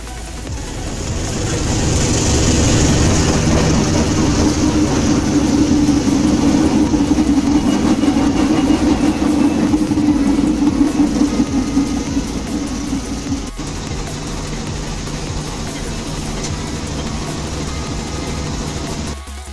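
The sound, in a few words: Railsprinter locomotive and Argo train running on rails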